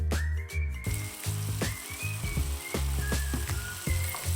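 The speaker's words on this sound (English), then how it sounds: "Add tomatoes, salt and pepper and cook them until they are soft." Onion and tomatoes fry in oil in a hot pan, a loud continuous sizzle with hissing rises and bubbling pops throughout.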